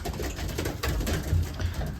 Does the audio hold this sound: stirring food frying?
no